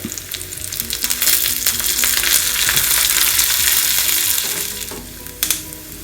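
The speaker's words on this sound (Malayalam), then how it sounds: "ഇതാ കടുകൊക്കെ പൊട്ടാൻ തുടങ്ങിയിട്ടുണ്ട് ഇനി ഇതിലേക്ക് രണ്ട് കൊച്ചുള്ളിയാണ് ചെറുതായിട്ട് കട്ട് ചെയ്ത് ചേർക്കുന്നത്" Mustard seeds, chopped shallots and curry leaves fry in hot oil for a Kerala-style fish curry tempering, with a loud, dense crackling sizzle and spattering pops that swell, then ease slightly before a final stir.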